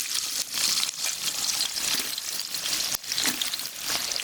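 Onions fry in a pan for mutton biryani in a home kitchen, giving a loud, dense, continuous sizzle close up, with brief dips around stirring and no speech.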